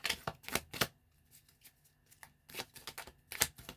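Tarot cards being shuffled and drawn, close and fairly quiet, with bursts of riffling and flicking separated by short pauses.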